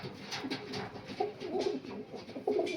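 Slender, light-bodied Panjabi Malwai pigeons give repeated low, rolling coos near at hand, several pulsing calls rising and falling in quick succession with no voices over them.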